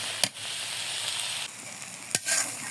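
Banana stem and egg frying in a pan without turmeric, a steady close sizzle with a few sharp spatula scrapes and clicks, no talk.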